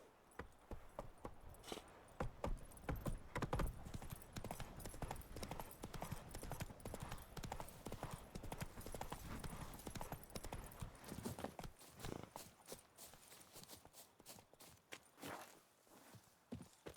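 Roach, Geralt's horse in The Witcher 3: Wild Hunt, clip-clops along at a steady walk, hooves striking in an even rhythm close by, alone with no talk.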